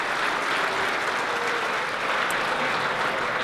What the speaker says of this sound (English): let's give your student trainers one more round of applause.